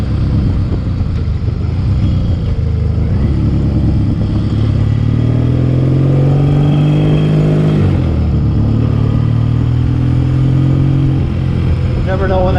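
Vintage motorcycle engine running after a kickstart, a close putter that rises and falls as it revs, with someone talking over it.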